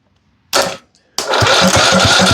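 A rebuilt, previously seized Briggs and Stratton small engine is cranked: a short burst of pull-start effort, a pause, then the engine catches and chugs with a steady rapid putter, close and loud.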